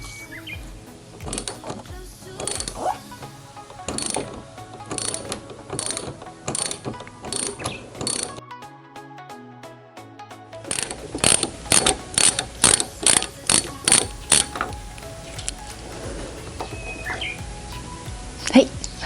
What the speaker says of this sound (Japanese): 続いてこことここのネジを8ミリのラチェットで外していき